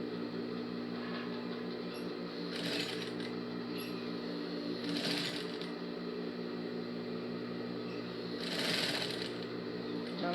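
A sewing machine stitches fabric for a pair of women's overalls with a continuous mechanical whir and drone. Brief brighter bursts of clatter break in at a few points along the seam.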